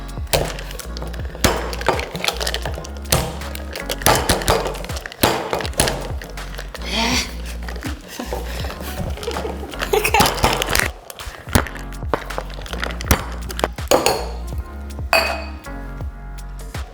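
A chilled cocktail shaker of metal and glass being pried open for a Breakfast Club sour, giving repeated sharp clinks and knocks in an irregular rhythm, close and fairly loud, with no speech.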